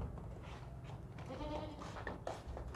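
A hardy billy goat bleating nearby in a quiet outdoor spot, a few short wavering calls in a low, faint clip.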